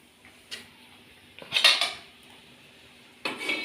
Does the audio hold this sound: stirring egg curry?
yes